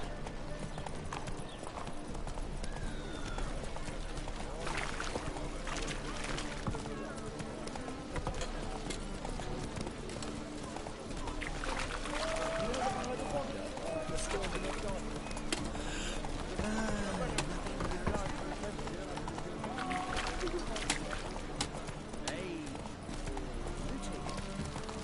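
Horse galloping in The Witcher 3 video game, a steady rhythmic clip-clop of hooves over ambient outdoor game sound with birds, continuous and moderately close, with faint voices now and then.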